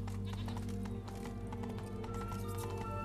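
Unicorn mount galloping through the fairy-tale land of Toussaint in The Witcher 3: Wild Hunt – Blood and Wine, a steady rhythmic clip-clop of hooves over a constant droning game soundscape, with no speech.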